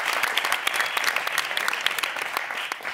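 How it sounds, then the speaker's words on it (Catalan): Steady applause from a live comedy audience, a dense, even patter of many hands clapping at close range that holds throughout without any voices over it. "Un aplaudiment per mi, sisplau!"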